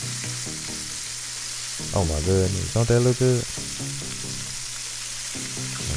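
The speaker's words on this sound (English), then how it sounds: "Nothing like fish frying in that pan. All that grease just popping" Steady hiss and crackle of pollock frying in popping grease in a pan, with a person speaking briefly over the sizzling.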